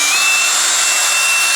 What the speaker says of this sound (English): The fan puts out a lot of airflow.